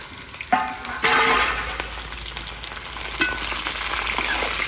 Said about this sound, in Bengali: এবারে ভেন্ডিটা দিয়ে দেবো, ভেজে দেবো ভেন্ডিটা।